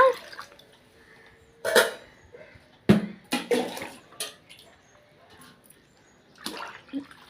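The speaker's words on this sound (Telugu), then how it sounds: "ఇప్పుడు నీరు పంపిస్తానండి ఇది ఇప్పుడు ఈ నూకలోని వాటర్ వేసేసి నానబెట్టి ఉంచుకోవాలన్నమాట" Water is poured over broken rice left to soak for urad dal flatbread, making several short, close splashing bursts separated by quiet gaps.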